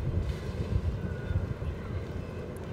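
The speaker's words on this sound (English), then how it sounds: "Hear the wind picking up a bit?" Wind gusts across the microphone at an outdoor recurve archery range during a bronze-medal final in Mexico City, a loud low rumbling buffet that swells and dips throughout.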